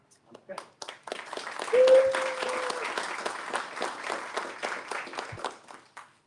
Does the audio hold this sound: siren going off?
no